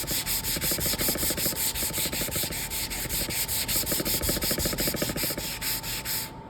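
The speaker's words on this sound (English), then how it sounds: "what I'm holding here is a sanding block" Sandpaper of 220 grit on a hand-held sanding block rubs steadily back and forth across wood, a continuous close scratchy rasp with rhythmic strokes that runs alone for several seconds.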